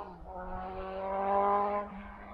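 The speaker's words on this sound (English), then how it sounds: "Some clown on a motorbike breaking the silence." A motorbike passes by at an abandoned rural railway station in Queensland, its engine tone rising as it approaches and then fading away, heard moderately close against an otherwise quiet setting.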